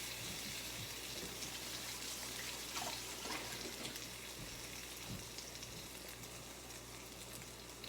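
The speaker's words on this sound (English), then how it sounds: "Just gonna wash my hands real quick" Tap water runs steadily while hands are washed at a kitchen sink, a faint and constant rushing hiss lasting the whole stretch, with slight swells and no voices.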